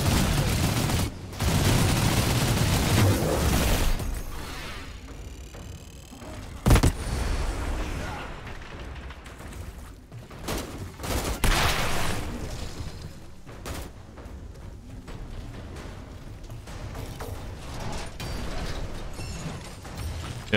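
Enemy gunfire in the Outriders shooter, scattered bursts and sharp cracks mixed with mechanical clatter, moderately loud against busy combat noise.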